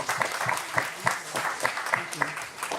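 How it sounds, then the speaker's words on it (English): A Comic-Con panel audience gives a round of applause, with steady crowd clapping throughout and a voice faintly mixed in. "give Jamie a round of applause."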